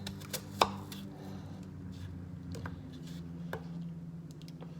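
A knife cuts fruit for a smoothie, trimming off a stem in sparse, close, crisp chops with one sharp knock against the board over a low, steady hum; no talking.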